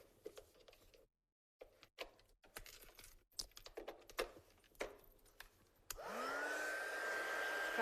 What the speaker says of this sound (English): So let's just blast these off with our gun.